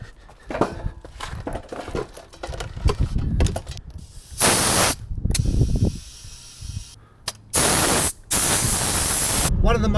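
An air pump inflates a car tyre punctured by a screw, with loud hissing bursts of air that start and stop between bouts of talk and handling noise, close by.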